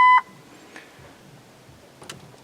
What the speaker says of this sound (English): we're still getting the beeping.